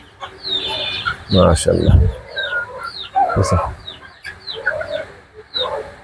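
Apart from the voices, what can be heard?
native chickens clucking on a rooftop farm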